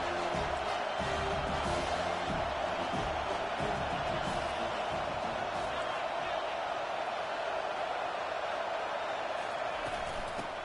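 A football stadium crowd at an Ole Miss versus USC game roars steadily and loudly throughout, a dense continuous wash of cheering and noise with no clear breaks.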